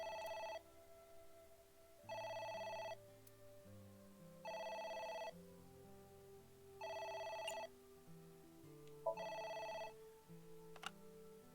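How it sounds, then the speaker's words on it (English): A telephone rings in a video game, five evenly spaced electronic ring bursts of about a second each, set over soft background music with no talking. "It's the phone. Maybe try picking it up?"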